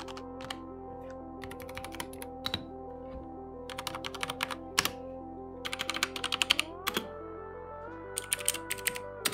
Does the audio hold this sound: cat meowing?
no